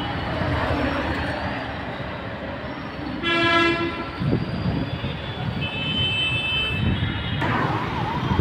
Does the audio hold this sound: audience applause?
no